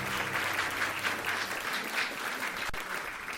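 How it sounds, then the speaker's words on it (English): A church congregation at a Sunday service gives a steady round of applause, many hands clapping together in a full, sustained wash that carries on without any voices. "Let's give them another round of applause."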